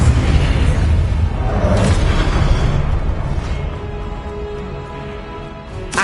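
A Confringo blasting curse detonates in Hogwarts Legacy, a loud booming explosion that rolls and slowly fades, with a further whooshing burst near the start.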